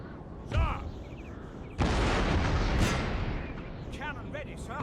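Cannon artillery fire in Napoleon: Total War, a Great Britain coalition battle, with sharp booming shots at about half a second and nearly two seconds, then rumbling battlefield noise, clashing and in-game voice calls.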